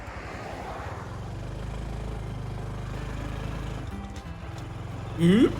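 Honda CT125 postie bike engine droning steadily on a rural Tasmanian road, its low harmonic hum continuing before a brief dip and a short sharp rev burst near the end after a missed gear.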